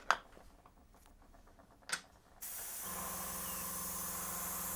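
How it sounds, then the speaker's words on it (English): Airbrush spraying green paint onto model trains, a few faint clicks and taps giving way to a sudden steady close hiss of air and paint that continues to the end. "Right, does the new airbrush work?"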